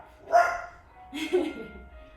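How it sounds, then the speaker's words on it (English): A guard dog barks twice in a backyard, two short, fairly close barks about a second apart, with quiet background between them and no talking. "There goes the guard dog."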